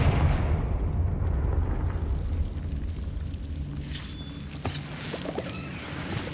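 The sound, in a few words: Confringo fire spell cast in Hogwarts Legacy video game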